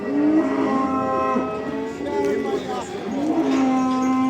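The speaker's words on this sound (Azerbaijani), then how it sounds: "İki dənə dana var." Calves at a livestock market in Barda bellow with long, loud, close moos that overlap and follow one another steadily.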